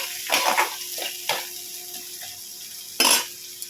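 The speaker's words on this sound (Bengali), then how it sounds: "মশলাটা একটুখানি মানে এটা একটু ভাজা ভাজি মানে একটু ভাজা করে নেব" Spices fry in a pan over a steady hum, with brief sizzling bursts and light stirring or clinking of a utensil against the pan, close and fairly faint with no talking.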